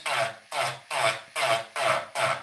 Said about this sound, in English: you get to hear this little nail Dremel grinding on things